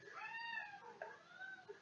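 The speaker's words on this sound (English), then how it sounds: "Apologies for that background noise, that's my cat seeking attention." A house cat meows for attention indoors, a few drawn-out, rising and falling calls close to the microphone, heard alone without talk.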